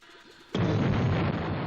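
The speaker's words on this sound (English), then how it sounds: "Foreign port disappears in mystery blast! As a result of the explosion, an urgent message flashed on the air." A cartoon explosion destroys a foreign port: after a moment of quiet, a sudden loud, broad roaring blast erupts and keeps rumbling without letting up.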